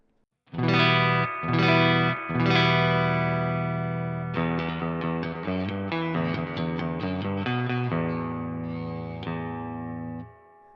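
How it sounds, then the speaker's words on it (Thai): Electric guitar chords through a Crazy Tube Circuits White Whale V2 spring reverb pedal ring out with a springy, splashy reverb tail, a few strummed hits followed by a busier picked passage, loud and alone. "เริ่มจากรีเบิร์บก่อน"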